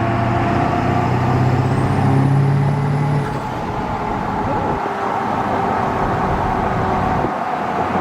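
A 7.3L diesel truck pulls away and accelerates with a loud, steady rumbling drone heard from inside the cab, a faint rising whine over the first few seconds, then a dip as the pitch shifts.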